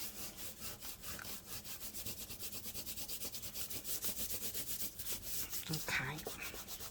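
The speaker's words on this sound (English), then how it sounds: "while it's wet, rub it really, really fast, and it does that balling up kind of thing" Fast hand rubbing over a wet surface while making a writing board, a steady run of quick, rhythmic back-and-forth strokes that sound close and fairly loud, with no talking.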